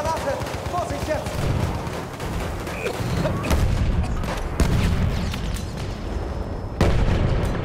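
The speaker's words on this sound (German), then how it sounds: "Ich werfe die Granate!" A grenade explosion amid battlefield noise in Battlefield 1, with sharp blasts and gunfire bursts over a rumbling backdrop, and voices shouting in between.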